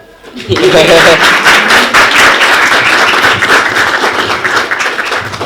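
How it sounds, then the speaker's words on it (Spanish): An audience bursts into loud, sustained applause at a book presentation, many hands clapping densely after a brief quiet start and carrying on steadily to the end. "Aplausos."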